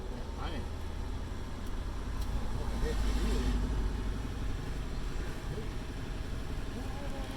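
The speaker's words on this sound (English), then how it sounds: "you guys are getting some road noise in the background" Continuous road noise and engine hum from inside a moving car, steady and fairly loud, with occasional voices mixed in.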